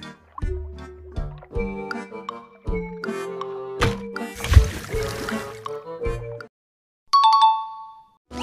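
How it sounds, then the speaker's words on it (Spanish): Little zombies topple into the sea in Plants vs. Zombies 2 after a barrel zombie's barrel breaks, heard as a run of cartoonish plonks, thunks and water splashes over game music, ending with bright chiming tones. "los zombiditos caerán al mar"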